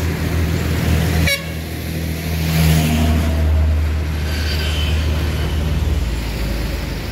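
Passenger bus idling at a roadside ticket office, with a loud engine drone, a short horn toot near the start and a revving passing vehicle, all close and continuous with no talk.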